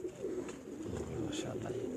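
Pigeons cooing on a rooftop, soft repeated low coos under faint background voices and ambient noise.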